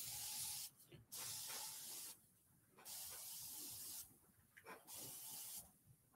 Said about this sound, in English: I'm just going to spray it with the scrub and bubbles